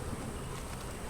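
Honey bees buzzing around a hive where a second queen turned up, a steady dense hum close by and continuous through the moment, with no talking.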